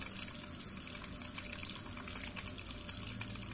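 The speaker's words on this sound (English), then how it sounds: "You can still see the noise of the air pockets and bubbles coming." Hot water gushes steadily from a geyser tap with a broad, hissing rush and faint bubbling from air pockets throughout, close and continuous.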